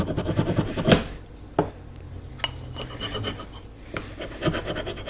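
Wood being burnished by hand rubbing, heard as close, scratchy strokes with occasional sharper knocks and scrapes in an irregular rhythm, with no speech.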